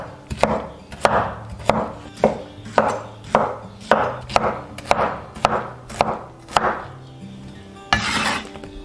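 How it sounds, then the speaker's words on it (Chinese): A knife chops pineapple into small chunks on a cutting board in about a dozen evenly spaced, crisp, close thuds, followed by a short scraping sweep. "接着把菠萝斜刀切成小块。"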